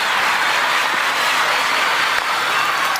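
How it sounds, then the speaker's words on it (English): Steady applause from a cricket ground crowd during a one-day international between Australia and South Africa, as a batsman nears a century; broad continuous clapping fills the whole stretch at even loudness, with no voices standing out. "the clapping's because Ricky Ponting is on 99 with just 70 deliveries"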